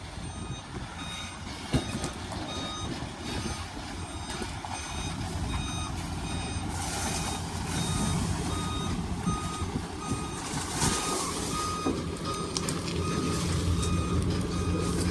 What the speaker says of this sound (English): where we have to back it up, we have to leave the truck in the road until we get it unhooked